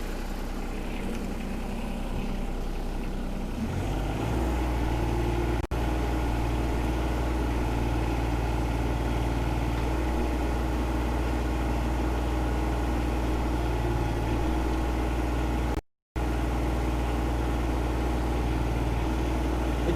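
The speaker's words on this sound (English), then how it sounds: "I will speed up the engine." A John Deere 2210 tractor engine idles steadily, then speeds up a few seconds in and holds a louder, higher, even drone close by, with a brief dropout near the end.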